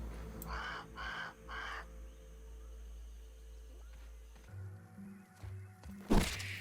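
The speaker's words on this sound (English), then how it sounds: "I scope out the crow on the bird bath." A crow on a bird bath in the video game Grounded gives three short, distant caws in quick succession, followed by low ambient game sound and a sudden thump near the end.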